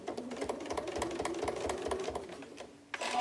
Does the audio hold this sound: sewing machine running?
yes